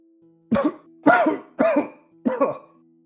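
Four separate coughs from one person, close and loud, evenly spaced over a few seconds, during a Dungeons & Dragons game session with a faint steady hum underneath.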